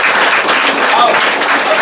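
Children clapping in applause at a Diwali prize event, a dense steady burst of hand claps, brief and loud.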